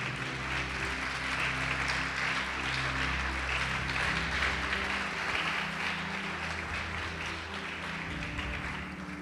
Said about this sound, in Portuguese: Quem crê nisso pode aplaudir o Senhor Jesus.